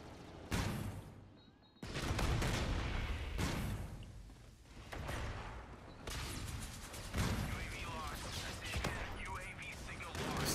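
Infinite Warfare weapon fire crackles in loud bursts separated by brief gaps, with sharp reports and whooshing tails, close and punchy throughout.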